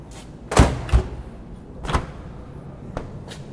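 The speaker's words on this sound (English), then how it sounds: "Let's close the doors and plug them in." Sub-Zero and Frigidaire refrigerator doors swing shut in a series of solid thuds, two close together and then two more spaced apart, moderately loud and close by with no talk over them.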